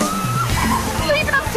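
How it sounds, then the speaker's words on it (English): A Caribbean waterfall crashing down with a broad, constant roar of splashing water, close and loud, while people talk excitedly over it. "I'm going to get under that waterfall"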